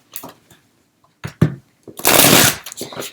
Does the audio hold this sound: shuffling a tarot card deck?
yes